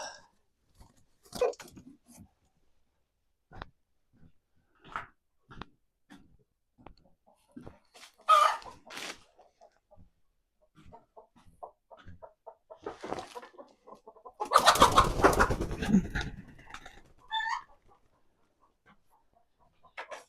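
Rhode Island Red, Barred Rock and Delaware pullets being caught give scattered nearby clucks and squawks, rising midway to a loud burst of flapping and agitated cackling before settling again.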